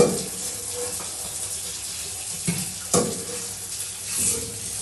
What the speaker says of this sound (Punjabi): ਬਰਤਨ ਵੀ ਸਾਫ਼ ਕਰ ਲੈਂਦੇ ਆ